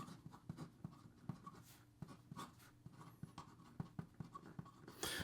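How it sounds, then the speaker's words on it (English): A Conway Stewart Alan Turing fountain pen with a medium 18-karat gold nib scratches and taps across paper in short, quiet, rhythmic strokes, heard close up with no talking. "Here we go with the writing sample for the Conway Stewart"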